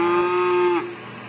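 A farm cow gives one loud, close, sustained moo lasting under a second, then it cuts off into quiet outdoor background.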